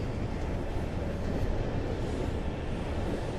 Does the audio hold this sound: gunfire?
no